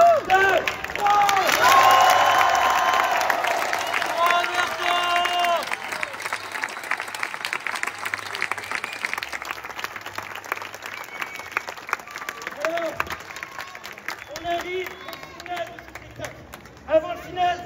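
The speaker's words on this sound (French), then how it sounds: "donner un applaudissement pour Roberto" An outdoor street festival audience in Vevey, Switzerland applauds a performer with loud, dense clapping and cheering that gradually thins out, while voices and crowd chatter continue underneath.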